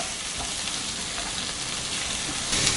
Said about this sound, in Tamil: வெங்காயம் நல்லா வதக்கிட்டோம்